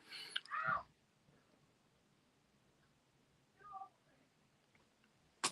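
A pet cat lets out a short meow, then a second softer one a few seconds later, heard faintly in a quiet room, with a sharp click right at the end.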